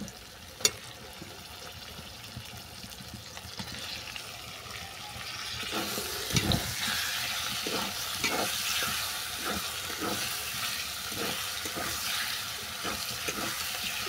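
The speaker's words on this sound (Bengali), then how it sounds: "চিকেনটাকে মশলার সঙ্গে ভালো করে মিশিয়ে নিয়ে" Chicken stirred into frying spice masala in a pan for mango chicken curry, a steady sizzle with repeated scraping stirs, close and continuous, no talking.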